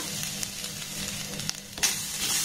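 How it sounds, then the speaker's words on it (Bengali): Grated coconut frying in a pan over a low gas flame, a steady close sizzle with soft scraping stirs and a few brief clicks of the spoon, no voices. "গ্যাসের ফ্লেমটাকে লো রেখে প্রথমে এই নারকেল কুড়ানোটাকে একটু নাড়াচাড়া করে ভেজে নেব।"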